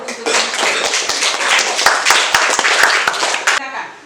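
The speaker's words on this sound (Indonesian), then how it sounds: "sekarang kita berikan aplaus dulu" A class applauds together, with dense, even clapping from many hands running steadily for about three and a half seconds and then stopping.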